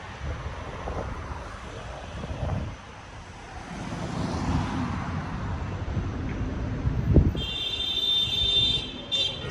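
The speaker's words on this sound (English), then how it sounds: "Somebody got road rage beeping." A car horn beeps in short repeated bursts near the end on a Philadelphia street in Frankford. It cuts through steady wind buffeting and passing traffic noise, at moderate distance.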